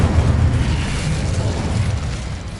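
A fire spell cast in the Hogwarts Legacy video game bursts into a dense, rumbling blast that roars steadily for a few seconds, heavy and close.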